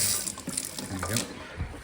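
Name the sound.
water running from a newly fitted tap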